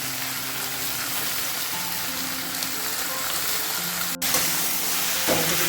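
Potatoes, ridge gourd and eggplant frying in a pan give off a steady, close sizzle that stays even throughout, with a brief stir or clatter near the end.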